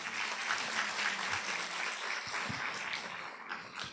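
A conference audience at a gender and justice lecture gives sustained, even applause, a continuous wash of many hands clapping at moderate distance with no break.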